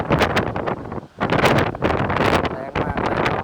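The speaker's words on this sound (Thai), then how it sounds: "ลมแรงครับอันนี้ไม่ได้พูดเล่น" Strong typhoon wind from Typhoon Megi roars through trees, with heavy continuous buffeting and rustling right at the microphone, briefly easing once before surging again.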